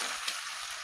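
Goat meat curry with potatoes sizzles steadily in a pan as chopped tomatoes are stirred in, a continuous close, bright frying hiss with no talking.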